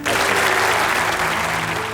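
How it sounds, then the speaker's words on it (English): A studio audience on a TV game show bursts into loud, dense applause, a continuous sustained roar of clapping with no pauses. "Give them a round of applause."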